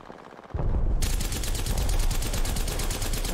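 Loud sustained automatic gunfire in the Apex Legends video game, starting abruptly after a quiet half second and continuing as a dense, rapid burst of shots to the end.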